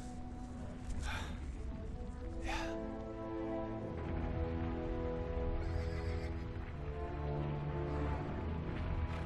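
Horses in Uncharted 3 Drake's Deception are ridden away at a slow pace, a whinny sounding near the start over steady hoof clip-clop and a sustained musical score.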